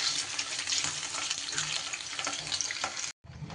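Paneer pieces fry lightly in a pan, a dense crackling sizzle that runs steadily, then cuts out abruptly for a moment before resuming.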